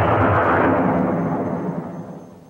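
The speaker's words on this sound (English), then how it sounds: "This is how one of them met its end, blown apart by well-placed explosive charges." Explosive charges demolishing a grain elevator, a single heavy rumbling blast that rolls and slowly fades over a couple of seconds.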